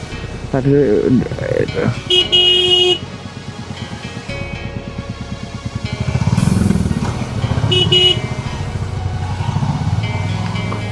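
Traffic jam on a rough road during a Honda SP125 bike trip, motorcycle engines idling and revving close by with scattered horn toots, under steady talk.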